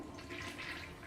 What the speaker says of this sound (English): Oh, with the toilet flush